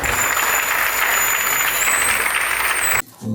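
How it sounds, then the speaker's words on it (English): Applause welcoming a reciter at a Republic Day celebration at SCB Medical College, a steady wash of clapping with a thin tone above it, ending abruptly. "Please welcome him with a huge round of applause"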